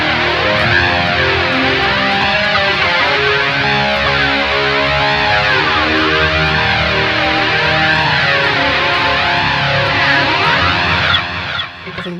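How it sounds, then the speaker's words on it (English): Electric guitar played through a BOSS eBAND JS-10 with a delay effect, a sustained distorted tone with wavering, sweeping overtones and echoing repeats, loud and continuous before fading slightly at the end. "I happen to add delay for the ambience because listen."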